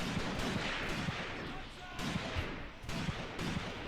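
Dense, continuous battle gunfire from the WWII tactical game Graviteam Tactics: Mius Front, with irregular shots and bursts crackling over a steady noisy din throughout, and voices faintly present underneath.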